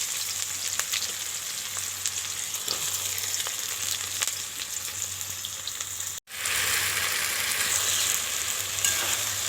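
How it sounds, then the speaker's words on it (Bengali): Chopped onion fries with whole garam masala in a kadai, a continuous close sizzle with occasional stirring scrapes; after a brief break it resumes louder and brighter. "পেঁয়াজ কুচি"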